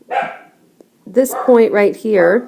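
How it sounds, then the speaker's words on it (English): A house dog gives a sharp bark at the start, then more barking mixes with someone talking through a math lesson indoors. "that's my dog barking"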